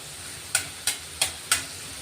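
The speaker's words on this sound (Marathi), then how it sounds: "थोडा कट केलेला लसूण टाकलाय" Chopped garlic sautéing in a pan: a steady soft sizzle with four evenly spaced scraping strokes of a spatula, close and clear, no talking.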